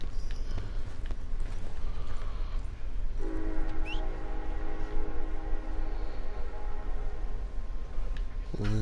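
A train rumbles in the open-world western video game Red Dead Redemption 2, a continuous low rolling rumble with a sustained tonal drone like a whistle or horn layered on top partway through, alongside hoofbeat-like clatter.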